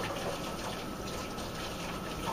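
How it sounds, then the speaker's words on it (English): Water running from a tap as hands are rinsed in a home kitchen while making Italian donuts, a steady moderate gush with no break. "Just want to rinse my hands a little bit."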